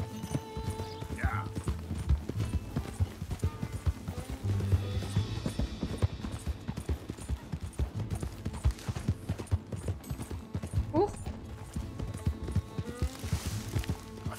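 Horse hooves clip-clop in Red Dead Redemption 2 in a quick, uneven rhythm at moderate volume, with voices talking over the hoofbeats.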